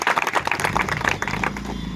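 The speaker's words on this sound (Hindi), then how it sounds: "उनके लिए जोरदार तालियां होगा" An audience at a community gathering breaks into applause, a close, dense patter of many hands clapping steadily throughout.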